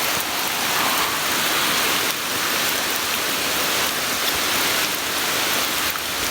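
Heavy rain pours down in woodland during a severe thunderstorm, a dense, loud, unbroken hiss of drops close to the microphone, with no voices.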